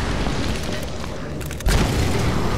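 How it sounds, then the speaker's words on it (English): A grenade launcher round exploding in the video game Tomb Raider, a deep booming blast that hits midway through an already noisy, rumbling scene. "No, a grenade launcher."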